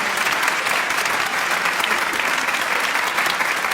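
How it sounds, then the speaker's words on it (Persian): Steady, dense audience applause fills the whole stretch at an even, fairly loud level, with many hands clapping together and no break, as a studio crowd claps on a Persian television show. "یه تشویقش کن."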